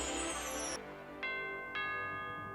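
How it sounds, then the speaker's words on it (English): A doorbell in an animated show gives two clear, ringing ding-dong chimes spaced about half a second apart, following a brief swell of background sound that cuts off. "Well, they still have normal doorbells in this place,"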